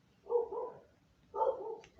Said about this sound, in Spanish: por allá suenan los perritos del refugio